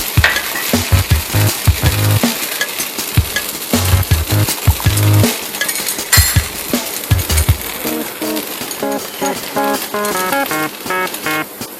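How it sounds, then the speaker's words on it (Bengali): Oil drizzled over a masala dosa on a hot pan sets off a loud crackling sizzle, with repeated metallic taps and scrapes of a utensil against the pan, close up and busy throughout. "এবার আমি একটু উপর থেকে তেল ছড়িয়ে দিচ্ছি"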